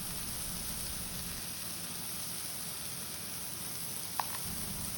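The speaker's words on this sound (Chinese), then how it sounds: "因为菇菇还蛮容易熟的，所以把它炒而上色就差不多了" Mushrooms stir-frying in a pan for a mushroom omelette, a steady soft sizzle and hiss throughout with one brief sharp tick near the end and no voices.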